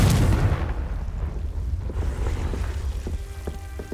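A Confringo spell explodes in Hogwarts Legacy with a heavy booming rumble at the outset, tailing into a sustained low roar and a few light clicks, no talking.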